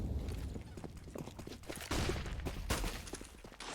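Rapid bursts of video game gunfire crackle at the banana area during a collegiate esports semifinal, over a dense, noisy background, with sharper shots standing out near the middle and end.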